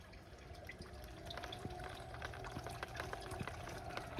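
A water feature in Butchart Gardens runs steadily, trickling and splashing nearby, a continuous gentle flow with small bright droplets, heard alone without voices.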